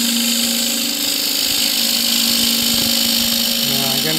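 A spindle gouge cuts a cross-grain wooden box spinning on a lathe, a loud continuous motor hum with a steady whirring tone and faint shifting scraping of the tool against the wood.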